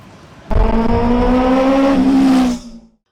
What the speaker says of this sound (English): I'm going to go take this bike for a spin